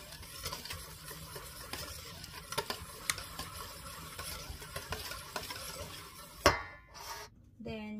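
Ingredients are stirred in a bowl with repeated soft scraping and tapping strokes in an uneven rhythm, close and fairly quiet, before a louder clatter and a short pause near the end.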